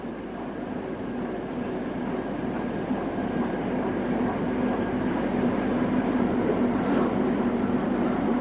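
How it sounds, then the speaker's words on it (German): An iron ore train runs high above the Rombaksbotn fjord, a steady, continuous rumble and rattle of wagons holding at constant loudness throughout, with a faint hum on top. "Die Erzbahn fährt hoch über dem Fjord Rombaksbotn."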